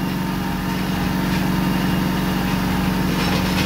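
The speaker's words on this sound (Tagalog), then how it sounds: "Mataas yung RPM niya kasi po, malamig pa" A cold Mitsubishi 4G13 engine idles at high RPM, a steady, continuous mechanical drone with a fine buzzing rattle, close and loud throughout with no talk.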